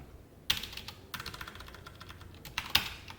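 Computer keyboard keys clatter in quick bursts as code is typed, with a pause, then a busy run of keystrokes and a couple of louder key hits, close and clear.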